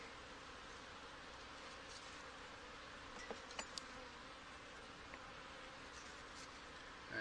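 Honey bees buzz in a steady, dense drone throughout a spring swarm inspection of a backyard hive, the hum continuous and even with a few brief louder clicks midway.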